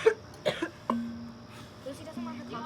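A few short, sharp coughs from a nearby person come in quick bursts, separated by brief pauses and quiet room noise.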